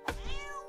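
A single short cat meow in the video game South Park: The Stick of Truth, clear and close, with no one talking.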